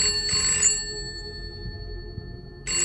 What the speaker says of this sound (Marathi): अचानक तिकीट खिडकीजवळील तुटलेला फोन वाजला.